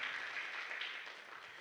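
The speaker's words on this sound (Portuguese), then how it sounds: "Pode aplaudir," Audience clapping at a seminar on child and adolescent health, a brief, steady wash of applause heard at moderate distance with no voices.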